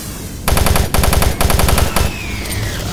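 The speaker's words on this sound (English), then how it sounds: "I'm totally going to hit him with my shotgun from here" Rapid bursts of gunfire in Doom 3, three loud stuttering volleys in quick succession with a short gap between each, then a fading tail; no talking.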